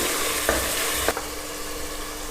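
Mutton cooking in a pan for biryani gives off a steady, loud, even sizzle throughout, broken by two brief stirring scrapes early on before settling into an unbroken hiss.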